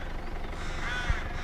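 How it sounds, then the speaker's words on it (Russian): Crows in a flock perched in a tree near a river mouth on the Moksha give a short burst of cawing, heard at a moderate distance over quiet outdoor background. "куча ворон"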